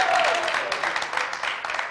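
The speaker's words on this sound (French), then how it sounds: "il faut applaudir" A crowd claps in a dense, steady wash of applause that carries on throughout, with faint voices mixed in.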